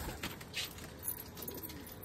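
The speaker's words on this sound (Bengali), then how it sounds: "আর এই যে আমাদের পায়রার ঘর, অনেক পায়রা আছে আমাদের বাড়িতে" Pigeons in a rooftop pigeon house coo softly from a short distance, faint and intermittent over light background noise.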